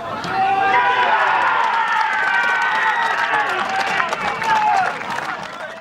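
A big crowd at a Morpeth rugby match against Pocklington fills the air with loud, continuous shouting and chatter, swelling and holding steady before easing slightly at the end.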